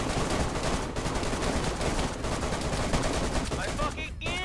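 Rapid bursts of automatic gunfire crackle continuously in the video game DayZ, loud and dense with overlapping shots, while a voice briefly shouts near the end.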